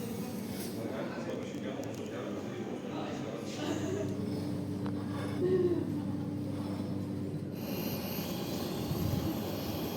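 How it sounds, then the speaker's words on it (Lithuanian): An airplane flying overhead produces a steady, low engine drone that swells slightly midway, with faint background voices underneath. "Tai lėktuvėlis mano."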